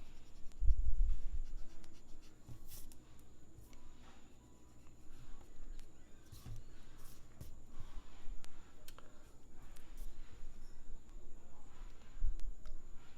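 A pencil drawing lines and shading on paper for a face sketch, soft continuous scratching with short strokes and occasional taps, close and quiet, no talking.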